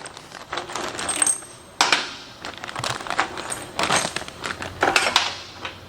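A bag of small metal hardware for an H & K Fab Pro DIY roll-out wheel is opened, and its parts clink and rattle in several bright, close bursts with rustling between them.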